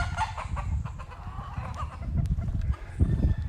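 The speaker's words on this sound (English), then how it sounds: "These are roosters." Several roosters on a Jamaican mountain hillside cluck and call over a steady outdoor rumble, with a short crowing phrase, the birds fairly close and overlapping in an irregular rhythm.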